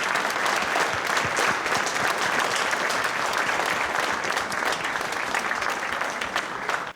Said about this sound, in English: Please join me in another round of applause for these award-winning students